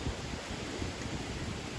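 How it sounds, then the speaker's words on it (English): Steady, broadband rush of strong wind blowing outdoors in an Oklahoma back yard, buffeting close to the microphone with no pauses. "You can hear the wind howling right now."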